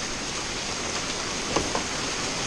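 A heavy rainstorm pours down hard, a dense, steady roar of rain filling the air with a couple of faint knocks partway through.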